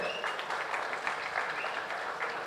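An audience applauding at a cricket jersey launch event, a steady moderate patter of many hands clapping throughout, somewhat distant and without speech.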